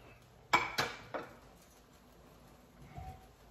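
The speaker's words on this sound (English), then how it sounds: "I use the same spatula I use for the bacon. That'll be just fine. So let me move this bacon back over here." A metal spatula scrapes and clinks against a pan while shifting bacon, with three sharp knocks in quick succession followed by a softer scrape and quiet kitchen background.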